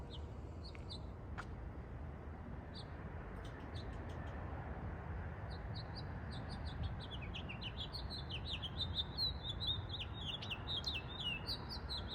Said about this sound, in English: I love hearing the birds in the morning.